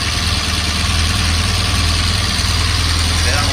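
A Honda RC30 (VFR750 R) motorcycle engine idling, a steady, loud, close throb with a constant low rumble and no break across the clip.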